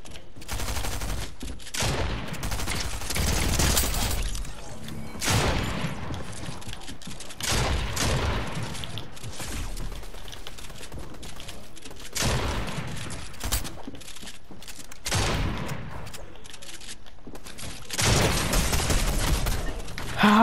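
Submachine gun fire in a player-versus-player video game free-for-all arena, rapid and nearly continuous shots rattling loudly through the whole stretch with a few heavier thumps mixed in.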